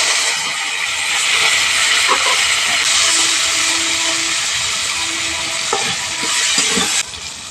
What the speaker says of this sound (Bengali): কেটে রাখা টমেটোটা দিয়ে দিচ্ছি।